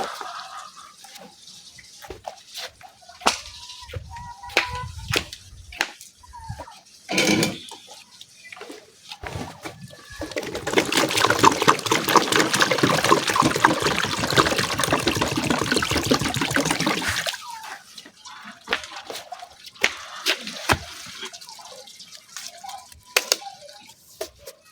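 Water runs and trickles over a freshly cut aloe vera leaf as it is rinsed, a steady splashing wash lasting several seconds amid scattered clicks and handling noises, with quieter dripping before and after.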